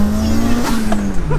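A 500bhp Mitsubishi Evo 9 street car spins its rear wheels, giving a loud, sustained tyre squeal over the engine's drone, close up and wavering slightly in pitch.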